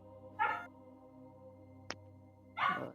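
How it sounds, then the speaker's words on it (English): A dog barks twice in the background, short sharp barks about two seconds apart over a steady low hum, with a brief click between them. "That's my dog."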